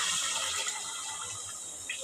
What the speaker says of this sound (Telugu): అలాగే నీళ్ళు అయితే పోస్తున్నా.